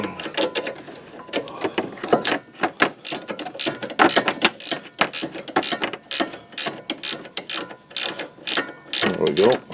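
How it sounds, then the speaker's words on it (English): A ratchet wrench loosens a front stabilizer end link nut on a 2007 Pontiac G6, a loud, close, fast run of clicking pawl strokes repeating in quick bursts throughout. "I'll put the ratchet on it, and we should be able to get that out."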